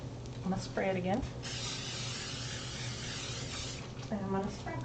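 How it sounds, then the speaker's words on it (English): Cooking spray hisses in one long, steady burst from a can over a pot of corned beef and vegetables, with a voice talking briefly before and after. "Now, I'm going to spray it again."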